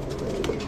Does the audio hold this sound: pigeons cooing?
yes